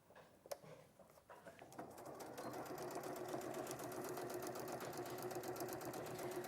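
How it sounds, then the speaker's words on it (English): An electric sewing machine stitches a 1 cm seam in Liberty cotton fabric, starting with a few clicks and taps before settling into a steady, fast mechanical whir up close. "And now we're going to sew it that 1 centimetre, and we will just miss these edges here."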